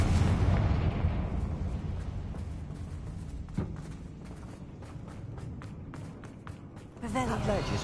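A Confringo fire-blast spell goes off in Hogwarts Legacy, a dense booming rumble at the start that fades into crackling debris, with a sharp hit near the middle and another swell at the end.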